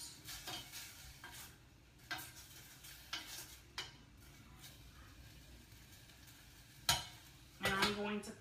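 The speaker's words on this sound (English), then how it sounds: "So I'm basically just stir frying the onions, the red peppers, and the tomatoes." Onions, red peppers and tomatoes stir-fried in a pan, a soft steady sizzle broken by repeated scraping and clinking stir strokes, with a louder rattle of the pan toward the end.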